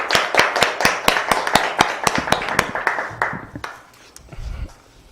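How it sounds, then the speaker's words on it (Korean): An audience at a national YMCA convention claps before a lecture on the Korean peninsula peace process. The claps are sharp and fairly close, and they thin out into a few scattered claps before fading, with some low background noise at the end. "큰 박수 부탁드립니다."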